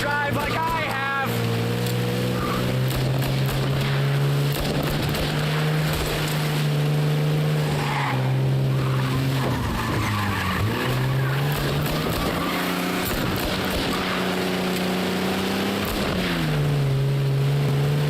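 Steady, loud engine drone of a car racing in a chase in Mafia Definitive Edition, with the pitch rising and falling as it accelerates and turns, and a voice talking over it.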